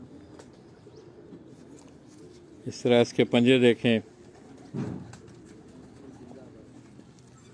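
Pigeons on a rooftop coop, a fancy breed kept by hobbyists, give a short burst of soft cooing and a later brief coo, fairly close, with someone talking over the quiet background.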